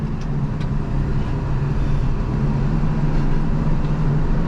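Steady low rumble of a vehicle with one driven wheel spinning in snow, no snow chain on that wheel, running continuously and fairly loud with no talk over it.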